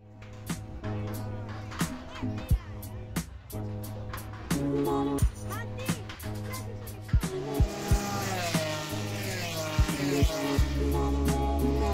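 Formula 3 race cars at the Monza circuit, with engines droning and rising in pitch while gear changes bring repeated sharp bursts and pops. The cars are loud and close, and the overlapping sound builds toward a sustained roar by the end.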